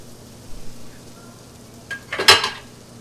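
Sausage goes into a hot, previously used pan with a clatter of metal, followed by a sharp burst of sizzling that quickly fades, after some faint knocks earlier.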